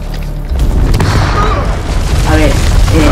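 A grenade blast in the horror video game House of Ashes, a loud booming explosion with rumbling debris that continues under excited voices talking.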